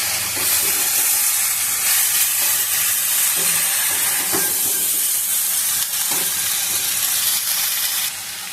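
Mixed vegetables and spices fry in a pan over a gas flame with a loud, steady sizzle and hiss, broken by occasional scrapes of stirring, and the sound eases slightly at the very end.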